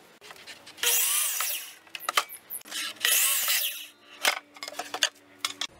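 A power saw cuts 16-foot deck boards to length, with two long, loud cutting bursts and several shorter whines and clatters between them, close by.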